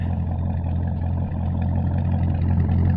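A Corvette C6 Z06 with a muffler delete idles and revs, a deep, loud, throbbing V8 exhaust rumble held close and steady with a slight swell toward the end, no talk.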